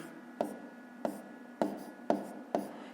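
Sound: writing a fraction by hand

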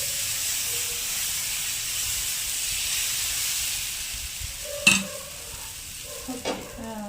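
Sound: dosa frying in butter on a tawa

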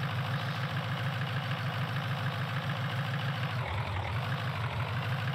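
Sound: chainsaw engine running in Farming Simulator 2011 video game

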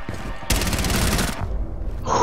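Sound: gunfire in the video game Rainbow Six Siege

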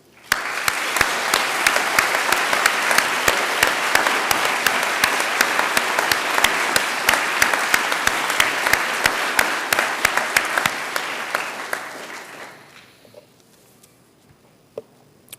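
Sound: graduation audience applause

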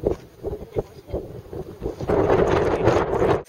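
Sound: wind at mountain summit

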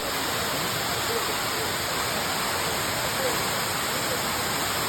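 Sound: Courtallam waterfall water falling

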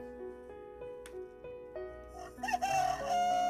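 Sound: toy playing rooster crowing sound

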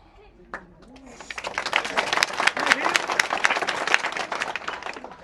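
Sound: audience applause at political speech

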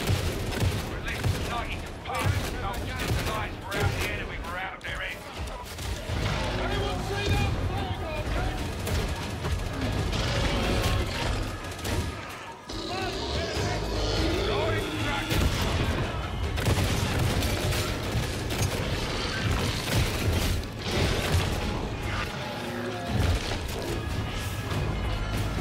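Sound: gunfire from friendly fire in the video game Warhammer 40k Darktide

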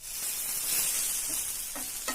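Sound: bitter gourd pieces being stirred while frying in a pan

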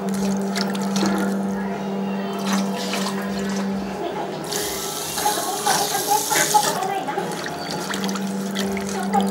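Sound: fresh water pouring at a street food stall

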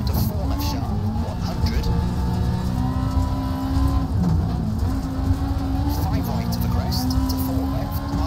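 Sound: rally car engine driving in video game EA Sports WRC

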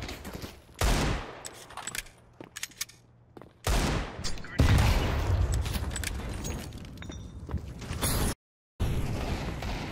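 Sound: gunfire in a video game

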